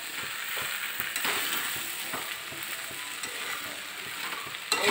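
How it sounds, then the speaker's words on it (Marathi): Sabudana (tapioca pearls) being sautéed in a pan for khichadi, with a steady close sizzle and light, irregular scraping and stirring ticks throughout. A slightly louder clatter comes at the very end, and there is no talk. "साबुदाणा ॲड करून साबुदाणा घालून थोडासा परतून घ्यायचा"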